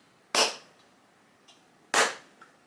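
Two crisp shotgun reports at a clay target on a trap range with a voice-activated remote trap system, spaced about a second and a half apart. Each is followed by a faint, brief echo in otherwise quiet surroundings.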